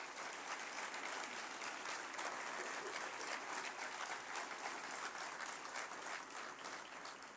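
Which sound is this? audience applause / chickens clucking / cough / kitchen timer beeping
audience applause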